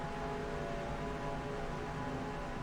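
Stock car engines in the NR2003 racing game drone steadily as a layered, constant hum with faint tonal whine, moderately quiet and unbroken, with no voices.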